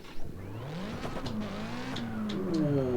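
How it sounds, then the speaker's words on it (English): A car revs and accelerates on a test drive in CarX Drift Racing Online 2, its engine note rising and falling through gear changes, close and steady, with brief tire squeal near the end. "so let's take this for a test drive."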